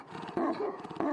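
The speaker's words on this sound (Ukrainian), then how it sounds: "за цим високим парканом живуть не люди, а собаки. І не прості, а одні з найнебезпечніших у світі – тибетські мастифи" Barking from Tibetan mastiffs kept behind a high fence, a few loud, rough bursts in close succession over a steady background murmur.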